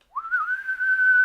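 A voice imitates a whistle: one sustained, steady whistled tone that slides up briefly at the start and then holds level, close and clear, with no talk around it.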